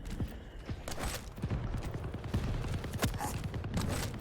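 Rapid nailgun fire mixed with rocket blasts in a Quake free-for-all tournament match, dense irregular bursts of clattering shots and thuds, fairly loud and continuous.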